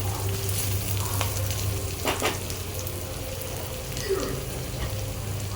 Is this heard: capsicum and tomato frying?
yes